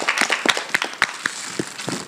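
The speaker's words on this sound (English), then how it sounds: "Let's give her one last warm round of applause." Sparse, scattered hand claps from an audience at a school of social work event, a few distinct claps fairly close and faint rather than a full ovation.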